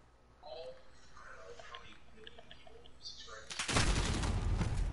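Call of Duty Modern Warfare gunfire bursts in suddenly and loudly as dense automatic shooting, following a stretch of quieter in-game clicks and effects.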